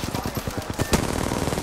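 Rapid automatic weapon fire from the video game Apex Legends, a fast, evenly spaced stream of sharp shots that rises into a louder crack near the middle and carries on in a steady burst.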